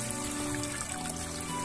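Water trickles steadily through an old brick channel outdoors, a continuous low wash with faint dripping textures and no voices.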